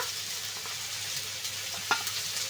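Spice masala with ginger paste sizzles in a pan while being stirred, a soft steady fry with occasional scraping of the spoon and one sharper clink, no talking.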